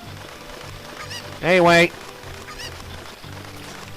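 A Cucco chicken in The Legend of Zelda: Ocarina of Time lets out a single loud, honking squawk partway through, over quiet game music, with a voice speaking briefly just before.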